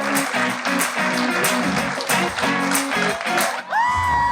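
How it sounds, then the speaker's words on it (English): Audience applause during a TV party-segment show, lively clapping with some crowd noise in a studio, ending with a brief tonal swoop. "Give her a round of applause."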